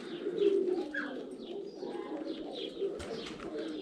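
Soft, low cooing of pigeons throughout, with a few faint chirps layered over a steady outdoor background; no speech.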